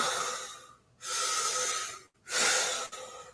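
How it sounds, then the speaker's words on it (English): Deep, forceful rhythmic breaths of a Wim Hof method breathing round, two long rushing airy breaths separated by brief pauses, close and loud with no talking. "Feel your belly and chest expanding on each of these breaths."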